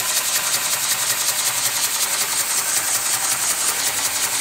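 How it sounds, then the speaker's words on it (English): A double-acting model steam engine runs steadily, its fast, even mechanical chuffing and rubbing clatter continuing without pause at close range, with no voices. "It's a double acting steam engine, so it's getting a power pulse on both the up and down stroke of the flywheel."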